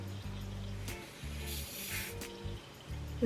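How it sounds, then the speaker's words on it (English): Hair spray is misted onto the lace edges of an HD lace fake-scalp wig in one short, soft hissing burst over a low background hum. "I'm gonna just spray a little bit."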